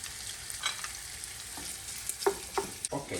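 Italian hot sausage frying in a pan for penne with mushrooms, a soft, continuous sizzle with a few sharper stirring clicks and scrapes near the end, fairly quiet and close.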